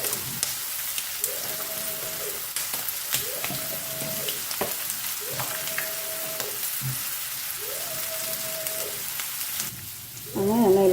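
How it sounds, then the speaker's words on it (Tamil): Onions sizzle steadily in a pan for paneer butter masala, a continuous close frying hiss with occasional stirring scrapes and no talk. "இப்போ இந்த வெங்காயம் நல்லா வதங்கட்டும் செவக்க வதங்கணும்"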